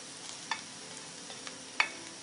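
Soft, low sizzle of scallion, ginger and garlic stir-frying over moderate heat, with a couple of brief sharp clicks from the spatula against the pan.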